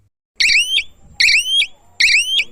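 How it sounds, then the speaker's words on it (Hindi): Siren alarm from an electric fence energizer (zatka machine), three loud, identical rising electronic wails in quick succession, each about half a second long with brief gaps between them. "सायरन की सेटिंग करेंगे और जिसमें आपको अभी आवाज़ सुनाई देगी कि किस तरह से इसका अलार्म आवाज़ करता है।"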